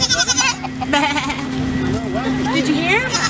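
A goat bleats several times, wavering calls at close range at an Easter egg hunt, overlapping with adults and children talking nearby.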